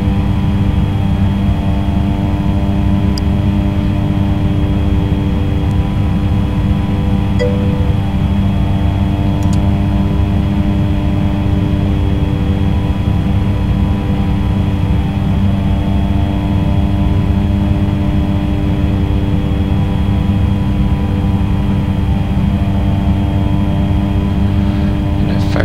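Steady propeller-turbine drone of a Cessna 208B Caravan engine in a flight simulator, a constant loud hum with layered tonal bands holding unbroken throughout, no talk over it.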